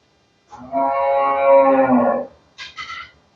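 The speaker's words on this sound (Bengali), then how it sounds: "এই যে এটা হলো বাচ্চা" A cattle calf at a dairy cow market gives one long, loud, tonal moo lasting nearly two seconds, followed by a short, breathy grunting call, close by with no talk.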